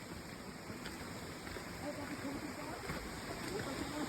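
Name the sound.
flowing water of the Rishi river in Sikkim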